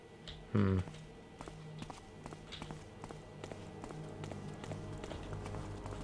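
Footsteps in a video game, a steady run of soft taps over a low ambient game backdrop with one brief louder thump near the start, no clear talking over them.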